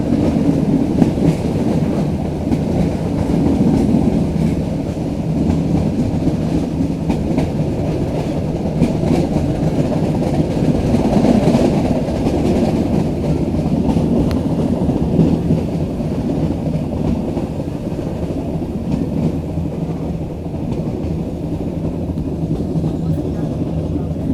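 A meter gauge train runs between Junagadh and Veraval, its steady rumble and faint clickety-clack rolling continuously from inside the carriage, with a voice speaking over it.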